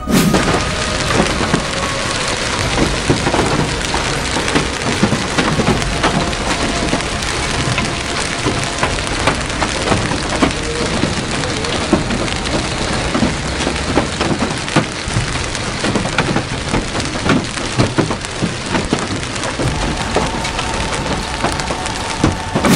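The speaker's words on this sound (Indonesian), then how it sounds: "turun hujan es dengan derasnya" A heavy hailstorm pelts Masjid Nabawi, a loud, dense, continuous roar of hard impacts and pouring water with crackling, splintery hits throughout and no voices.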